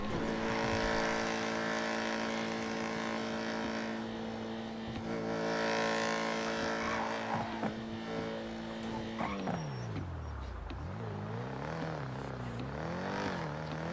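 A car racing through a chase in GTA roleplay, a steady loud engine whine that drops sharply in pitch, then wavers up and down as the car slows and maneuvers, with no voices.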